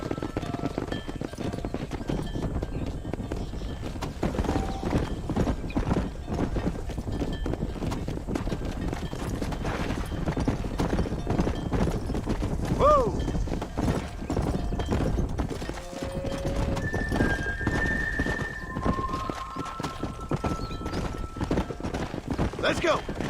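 A horse's hooves clatter in a fast, continuous galloping rhythm across open ground in the Red Dead Redemption video game, with a brief neigh rising midway and a rider's voice calling out over the hoofbeats.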